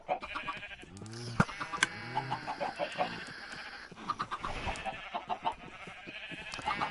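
Chickens clucking and squawking on a chicken farm in a video game, a busy overlapping chorus of bird calls with bleat-like cries, moderately loud and continuous.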